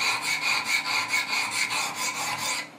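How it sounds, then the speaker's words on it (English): A Benchmade 940 knife blade is drawn along a Wicked Edge sharpener's stones on its left side, giving a series of about ten rhythmic, even rasping strokes, close and dry, with no talking. "I'm going to sharpen on the left side now"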